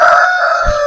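Rooster crowing on a poultry farm in Thondi, Nilambur, a single loud, close, sustained tonal call lasting under a second.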